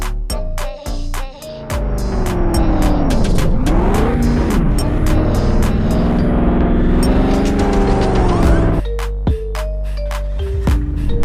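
An Android open-world driving game plays a loud car engine that revs up and down through gear changes, with tire squeals and skids and sharp clicking interface sounds at the start and end.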